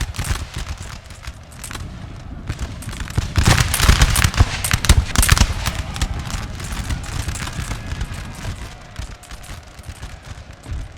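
Battle noise from Napoleon: Total War with dense, continuous crackling gunfire, rising to a louder burst midway amid general battlefield din, with no clear talk.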